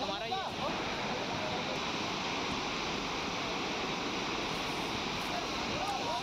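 A waterfall in Morena, Madhya Pradesh, running high after a sudden rise in water level, roars as a loud, dense, continuous rush with no break, close and filling the whole scene.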